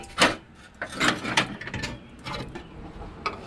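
Metal cover panel being unbolted and slid out from beneath a Nissan Xterra, giving a series of close scraping, rubbing and clunking knocks in uneven bursts with no talking.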